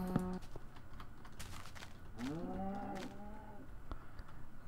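Cows mooing in Minecraft. A couple of drawn-out, moderately loud game moos with a rising pitch, mixed with faint clicks and keyboard-like tapping from play, and no talking.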